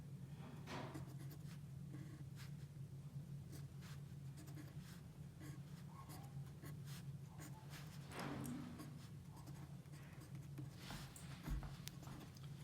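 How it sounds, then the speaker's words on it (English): A pen or marker scratches steadily while someone draws out a DNA strand structure with an adenine base by hand, over a low constant hum, with short strokes and taps throughout. "Drawing adenine"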